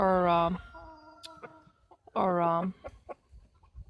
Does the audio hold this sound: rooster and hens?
yes